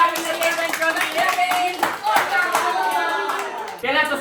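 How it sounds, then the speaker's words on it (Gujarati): An audience at a Gujarati comedy folk show claps to welcome a performer, a dense, lively burst of applause up close, mixed with a voice and some musical tones. "આપણે ભાવજીને દિલથી સ્વાગત કરશું એકવાર જોરદાર તાળીઓથી"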